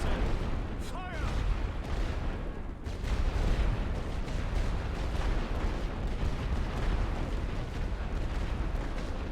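Creeping artillery barrage in the video game The Great War: Western Front, a loud, continuous rumble of overlapping distant booms and blasts filling the whole clip, with a brief lull before it swells again.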